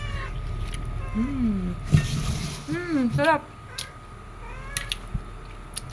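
A cat meows several times, short rising-falling cries close by, while people eat nearby at a rural home with a short word spoken and faint clinks of dishes.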